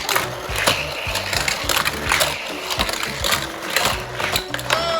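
Hot Wheels toy cars race and crash on a Power Shift Raceway trackset, a dense run of loud plastic clatter, rattling wheels and sharp impacts crowded close together, with no talking heard.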